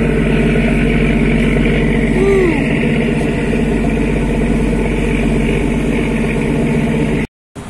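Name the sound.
boat engine running near exhaust stack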